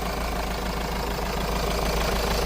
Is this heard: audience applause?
no